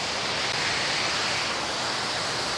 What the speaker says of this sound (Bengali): 120 ফুট উপর থেকে পানি পড়ে